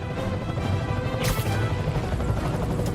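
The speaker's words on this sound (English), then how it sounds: "I'm getting reports of a helicopter with a wrecking ball." Helicopter carrying a wrecking ball in the Spider-Man PS4 video game, a loud continuous rotor drone with a sharp crash-like burst near the middle, sustained throughout with no speech.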